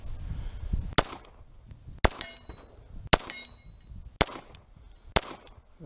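Bullets from an FNH FNX-45 pistol ring off a steel target in five sharp metallic clangs, evenly spaced about a second apart, each with a short bright ringing tail over quiet outdoor background.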